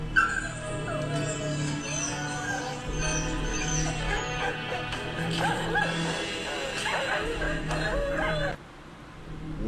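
A dog barks, yips and whimpers repeatedly in a shrill, restless run of sounds, fairly close and continuous, then the noise drops off near the end.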